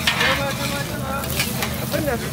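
Wagyu nasi goreng fries at a Ramadan bazaar stall in TTDI, a steady close sizzle with stirring scrapes of the wok, while a busy crowd murmurs and voices talk nearby.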